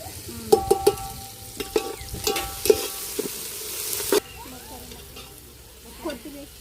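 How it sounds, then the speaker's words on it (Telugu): Vegetables fry with pulao spices in a pan, giving a steady close sizzle broken by sharp clicks and clatters of a spoon stirring, with the sizzle fading lower near the end. "వెజిటేబుల్ మొత్తం అయితే బాగా ఫ్రై అయినా లేదో చూసేసుకొని పలావ్ దినుసులు మొత్తం వేసుకుందాం"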